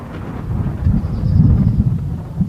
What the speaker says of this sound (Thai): ฟ้าร้องทึมทึมทึ